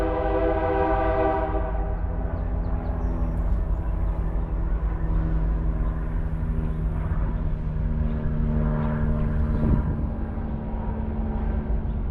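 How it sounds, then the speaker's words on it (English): A train passing at a distance near a small park, a steady low rumble and drone with sustained horn-like tones that shift in pitch as it rolls by, continuous and fairly even in loudness, with no talk over it. "Train in the background."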